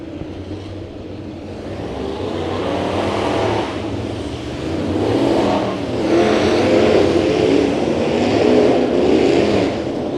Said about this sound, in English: Heat race number 4, the final heat race for the Sport Mods,